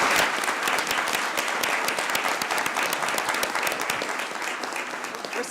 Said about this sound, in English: Let's give them another round of applause, folks.